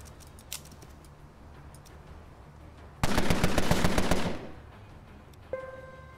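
Rifle fire in the video game Empire of Sin comes as a single early crack, then a loud rapid volley of shots lasting about a second, followed by a sharp tonal game effect near the end.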